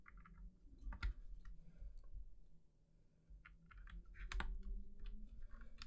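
Typing on an FL-CMMK MK870 hot-swap keyboard fitted with EnjoyPBT ABS doubleshot keycaps, bursts of close, crisp keystroke clicks in uneven runs with a brief pause midway.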